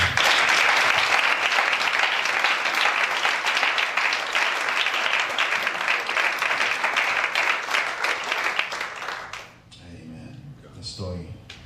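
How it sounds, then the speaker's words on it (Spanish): Loud, dense applause from a church congregation in Nogales fills most of the stretch, then drops off abruptly near the end, leaving a quieter tail with scattered voices. "Denle un fuerte aplauso a Cristo"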